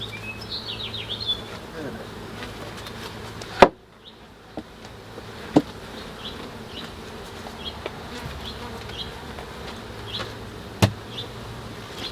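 Honey bees at an urban backyard beehive during a quick inspection, a steady close buzzing hum with a few sharp knocks and clicks from handling the hive, no speech.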